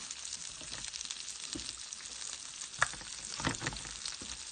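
Shrimp stir-frying in olive oil and butter, a soft continuous sizzle with light crackles and occasional stirring clatter, fairly quiet.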